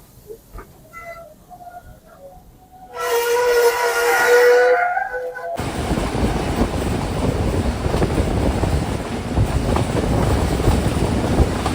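An old British-built steam train's whistle sounds loud for a few seconds in Sri Lanka, then the steady rumble and rattle of the running train takes over.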